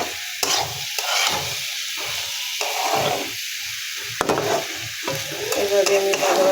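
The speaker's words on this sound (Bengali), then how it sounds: "এভাবে আমি ভাজা ভাজা করে নেব।" Vegetables for a bhaji being stir-fried in a pan with salt and green chilies, close and steady: a continuous sizzle broken by repeated scraping stirs of the spatula, with no voices.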